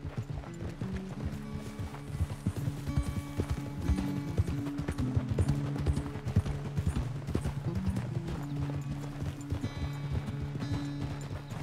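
Horse hooves clip-clop at a steady walking pace in the Red Dead Redemption 2 video game, close and continuous over a low ambient music bed, with no speech.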